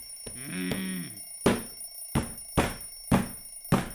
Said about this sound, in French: Le réveil sonne et je m'éveille à 9 heures.